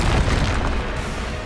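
A spell blast in Hogwarts Legacy booms loudly and immediately, a heavy burst with rumbling decay that fades over a second and a half without any voice.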